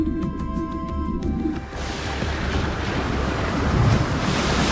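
Stormy sea waves and wind surge in a broad, rushing wash that swells louder toward the end, after a brief opening of tonal musical notes.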